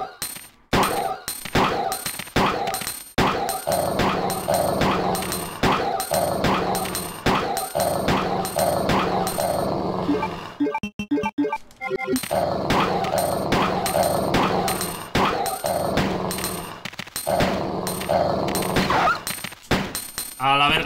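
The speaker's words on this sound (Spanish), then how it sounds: "Voy a matar a algunos perros." Several dogs bark, yip and growl in a fan-made Resident Evil mod while gunshots ring out in rapid bursts, loud and dense for most of the stretch, with a short quieter break midway.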